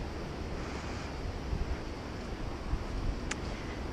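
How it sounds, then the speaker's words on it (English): A creek runs through a low, swampy wooded stretch of the Pennsylvania Mid-State Trail, giving a steady, close broadband rush of flowing water with light wind buffeting and no talking. "The creek running along the edge."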